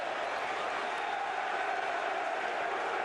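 An Everton football crowd fills a Premier League stadium with a continuous, broad wash of distant murmuring and chanting, even and unbroken.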